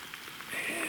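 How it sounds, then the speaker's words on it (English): Light rain patters softly and continuously on a surface in the Maine woods in September, a faint hiss with scattered drops. "it's starting to rain"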